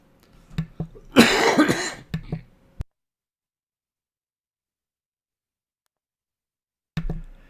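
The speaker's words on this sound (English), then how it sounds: "you got one of my coughs on there" A man coughs in a short harsh burst of several hacks, close to the microphone, followed by a long silence and one more brief cough at the end.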